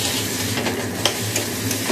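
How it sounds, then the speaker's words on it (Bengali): Egg and potato frying in a pan while being stirred, a close steady sizzle broken by a few sharp spatula scrapes and clinks. "তো এই যে ডিম আর সেদিকে আলুটা কষে নিচ্ছি।"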